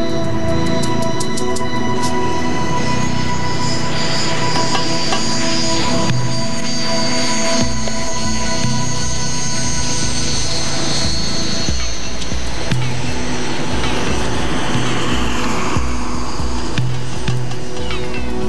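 An RAF Red Arrows jet roars overhead as a broad, continuous rushing thunder that swells and shifts over time, with a voice speaking over it.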